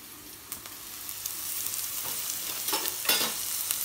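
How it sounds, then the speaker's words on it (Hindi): Onions fry in a pan over a medium flame: a steady hiss of oil with a few louder sizzling bursts and faint scrapes from stirring, close by, with no talking. "प्याज को लाइट गोल्ड होने तक हमने फ्राई करना है"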